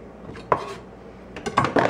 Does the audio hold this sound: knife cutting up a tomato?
yes